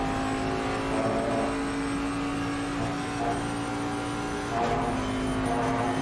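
Bentley race car in a sim-racing esports event at Misano, engine droning steadily at high revs with a strong sustained tone, fluctuating slightly as it accelerates, with other cars faintly around.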